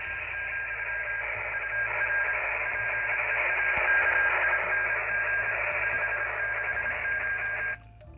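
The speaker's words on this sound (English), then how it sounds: "we hear a QSO going on right here" CW Morse code radio contact coming through a receiver and picked up by a small microphone, a steady continuous tone held over band hiss and noise for about eight seconds, then cutting off near the end.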